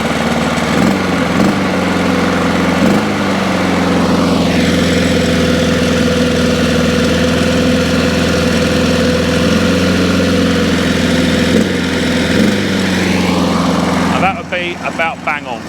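Small lawn mower engine idling steadily after a governor speed adjustment, a close, loud, even drone holding constant pitch, ending with a brief change as it settles.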